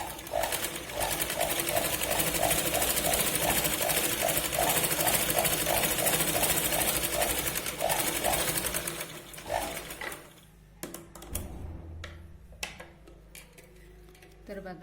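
A sewing machine double-stitches a katori blouse, giving a fast, loud, rhythmic mechanical rattle for about nine seconds before stopping, followed by quieter handling noises and faint clicks.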